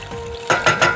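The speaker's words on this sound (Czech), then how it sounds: "Přidám trochu vývaru." Broth poured into a hot pan of reduced wine sauce, a sudden loud sizzle bursting in three quick surges over a low steady hiss.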